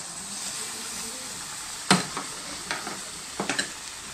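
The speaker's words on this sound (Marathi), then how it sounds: "परत एकदा आपण ढवळून घेऊया याला" A spoon stirs a besan mohanthal mixture of gram flour, ghee and milk in a pan over a steady low sizzle, with a few scattered scraping clicks.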